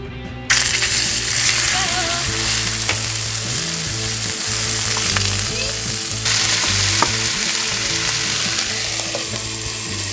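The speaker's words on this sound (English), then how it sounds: "we're gonna get our meat, throw it in there, brown it" Meat sizzles and fries loudly in hot olive oil in a pan on the stove, a dense continuous crackle with occasional clinks and scrapes of stirring.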